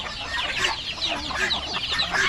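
Jungle fowl of the Yangbu breed clucking continuously in short, busy bursts at moderate distance, with no speech over it.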